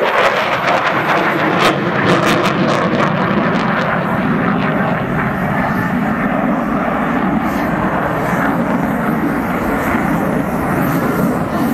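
Military jet climbing in a spiral at full thrust during an airshow at Fairford, a loud, continuous roaring engine rumble that stays steady and powerful throughout, close and overwhelming with no voices.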